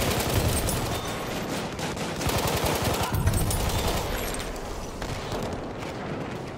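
Battlefield 1 machine gun fire: sustained rapid rattling bursts mixed with heavy battlefield blasts, loud and continuous throughout.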